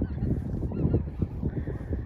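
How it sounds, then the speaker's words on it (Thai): Geese honk loudly and continuously up close, a dense overlapping flock chorus with no talking. "เป็ดพวกห่าน"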